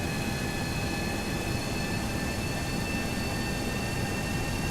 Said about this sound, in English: Once we get the airplane moving here.